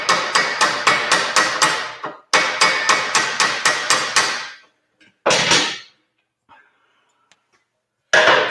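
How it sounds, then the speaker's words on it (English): A hammer strikes a bolt used as a punch in loud, evenly spaced metallic blows, two rapid runs of about six hits each, then single strikes separated by quiet gaps. "and then I'm going to get a whack with a hammer."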